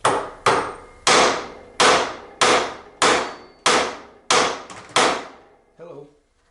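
Nine sharp metallic hammer strikes on a dirty caster spindle bearing of a Hustler mower ring out at a steady pace, each blow loud and close with a short ringing decay, the last one softer.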